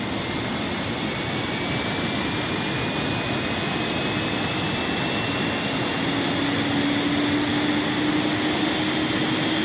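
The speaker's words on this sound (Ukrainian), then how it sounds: "О, чуєте? Запускається APU." An aircraft APU starts up in the Airport Sim video game, a loud steady turbine roar with a slowly rising whine that climbs in pitch as it spools up, heard alone with no talk.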